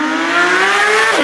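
A Porsche 992 GT3 engine with an iPE aftermarket exhaust revs hard and close, its loud, raspy exhaust tone climbing steadily in pitch before dropping off at the end.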